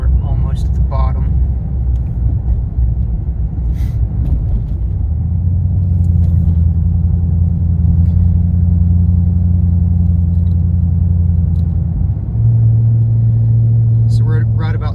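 Low, steady exhaust drone from a 2013 Chevrolet Camaro SS convertible cruising at low RPM, a loud rumbling hum that holds a constant pitch, briefly shifting lower then settling, with faint knocks and rattles over it.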